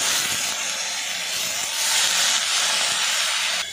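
A little water poured into a hot kadai with salt, turmeric and green peas bursts into a loud, steady hiss of steam that holds at close range throughout.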